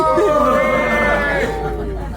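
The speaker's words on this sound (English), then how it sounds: "let's cheer on the bike guys because they started way too late" A small crowd cheers and whoops for cyclists on a 14-kilometre uphill road climb, their voices rising in ragged shouts close by.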